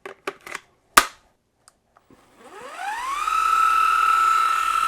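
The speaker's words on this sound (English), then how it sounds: "So you can see, not only is this rotational, this is actually orbital. So this is dual action polisher" A RAYBAO cordless 12-volt dual action car buffer polisher: a few sharp clicks and handling knocks, then the motor spins up with a rising whine and settles into a steady, loud, close whir.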